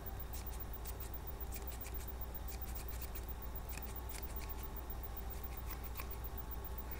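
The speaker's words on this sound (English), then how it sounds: "They're kind of heavy duty scissors, but they don't make a lot of sound." Quiet, rapid snipping of heavy-duty sewing scissors cutting in an irregular patter, soft clicks over a low steady hum.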